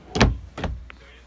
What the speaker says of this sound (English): Nice big drawers, full extension.